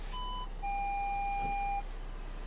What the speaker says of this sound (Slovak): To je síce ten senzor, ktorý keď je mokrý, tak píska.